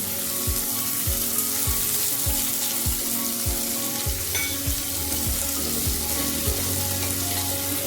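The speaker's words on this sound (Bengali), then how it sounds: "তেজপাতাটা দিয়ে দিলাম। নাড়তে থাকি কিছুক্ষণ, সামান্য নাড়বো।" Bay leaf frying in hot oil makes a continuous loud sizzle, with about a dozen soft, regular stirring strokes spaced roughly half a second apart beneath it.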